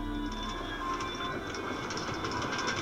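Steady rumble and rattling clatter of a Far Rockaway-bound A subway train in motion, heard continuously from inside the car with no talk.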